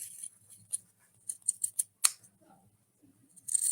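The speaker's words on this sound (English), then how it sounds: "I'll do the pinking shears. And I'm just going to cut it" Pinking shears cut through fabric in a few quick crisp snips with short pauses between, close and fairly quiet, with a brief rustle of cloth near the end.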